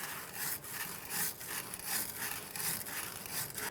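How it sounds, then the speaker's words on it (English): Sandpaper or a wire brush scrubs the rear axle mounting area of a 2014-2019 Toyota Corolla during a wheel bearing and hub replacement, giving steady back-and-forth rasping strokes, close and fairly quiet, with no talking. "For that, you can use a piece of sandpaper or wire brush, whatever you have. We'll just clean it up,"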